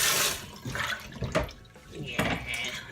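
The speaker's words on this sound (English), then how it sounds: "To take out any dirt from it, you can wash it twice." Palm fruits being washed in water for banga soup, with sloshing and splashing in a bowl or sink, heard close and fairly steady across the clip.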